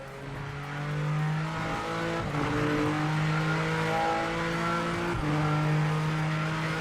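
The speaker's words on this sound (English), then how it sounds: "I think the car sounds nice and throaty." A throaty race car engine in a racing video game drones steadily and loudly with shifting pitch as it revs and changes gear, no voices over it.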